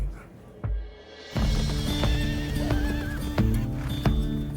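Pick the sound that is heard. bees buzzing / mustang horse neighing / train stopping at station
mustang horse neighing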